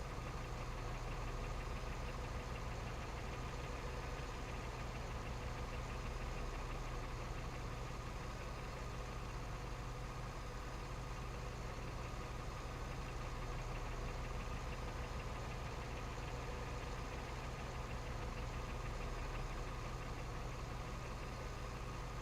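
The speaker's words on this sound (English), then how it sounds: "So I got to drive the damn tractor into town." A tractor engine idles in the farming game Ranch Simulator, a steady, continuous low knocking rumble with even vibration that holds unchanged throughout, with no voices.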